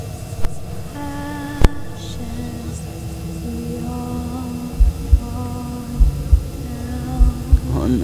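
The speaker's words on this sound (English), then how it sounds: "why is the heartbeat started already?" Heartbeat in the Slender Elementary horror video game: soft, low paired thumps repeating steadily through a droning ambient hum, growing more regular toward the end, with no speech over it.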